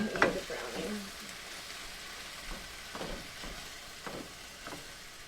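Beef sears in a hot pan over high heat, a soft continuous sizzle with a louder clatter at the start and a few scattered stirring scrapes afterward.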